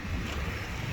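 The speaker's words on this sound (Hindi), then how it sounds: "ठंडी हवा चलती हुई जो मेरी आवाज़ को बेंधने की कोशिश कर रही है" Cold wind buffets the microphone beside the Yamuna river near the Paonta Sahib gurdwara, a steady low rumbling roar with airy hiss throughout.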